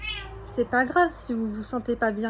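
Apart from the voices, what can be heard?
cat meowing in the background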